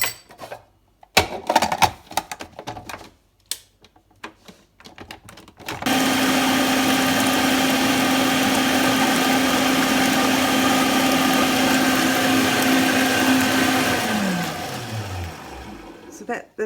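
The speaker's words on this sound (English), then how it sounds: "So I'm just adding the egg yolks and the mustard. I'm going to blend those together well." A blender whirs steadily as it mixes egg yolks and mustard for homemade mayonnaise, running loud and continuous for several seconds, then winding down with a falling pitch; brief clatter and handling noises come before it starts.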